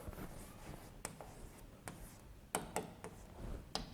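Chalk or marker strokes on a board during a physiology lecture on buffer systems, heard as scattered sharp taps and scratches, close and fairly quiet, with no talking.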